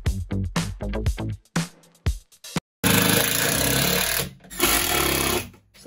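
A wood panel is fastened onto the back of a fridge in a home kitchen build, with a rapid series of sharp tool impacts followed by a loud sustained mechanical burst, close by.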